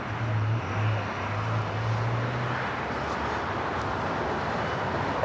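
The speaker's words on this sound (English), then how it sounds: "We got that A321 Neo with Spirit now rolling down that 25 right." A Spirit Airbus A321neo rolling down runway 25 right at Los Angeles airport, a continuous wide jet-engine rumble and hiss at a distance, steady throughout with a faint low hum early on.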